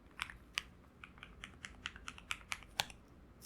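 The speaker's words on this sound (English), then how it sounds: "I think I typed the right password." Password being typed on a computer keyboard at a Linux virtual machine login, a run of crisp, close individual key clicks in an uneven rhythm, moderately quiet with no talking.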